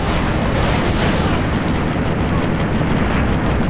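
Station defense cannons firing in Halo Reach: a dense, continuous roar of heavy artillery-like rounds, loud and unbroken throughout, with no gaps between shots.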